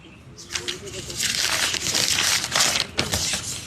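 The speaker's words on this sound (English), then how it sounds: "I roll the paper" A sheet of paper is rolled up by hand, giving a close, steady run of crinkling and rustling with a few sharper crackles, and the sound starts softly before growing louder.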